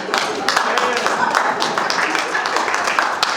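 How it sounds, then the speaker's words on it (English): A group claps together for women who have been cooking, a steady dense patter of hand claps mixed with voices and chatter throughout. "let's clap for those women"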